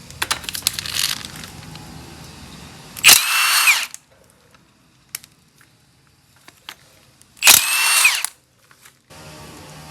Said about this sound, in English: let's get those head bolts off. Those are 15.